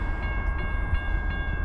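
An eastbound CSX freight train runs past at speed with a steady rumble, rail clatter and a sustained tonal horn drone, loud and close.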